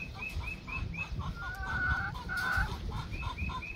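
First-time laying hens in a portable pen clucking close by, a run of short repeated clucks with a longer drawn-out cackle in the middle.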